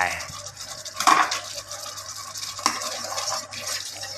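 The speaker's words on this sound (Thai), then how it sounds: "คนอีก" Spatula scraping and stirring chicken in a pan of Thai stir-fried noodles with egg, a steady close scratchy rustle with a couple of sharper knocks against the pan.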